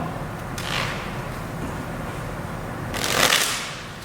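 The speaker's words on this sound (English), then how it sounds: "Now I do want to give these a shuffle as well." Two quick riffle shuffles of a deck of cards, a soft whirring flutter near the start and a louder one later, over quiet room tone.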